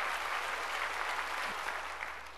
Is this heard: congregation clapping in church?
yes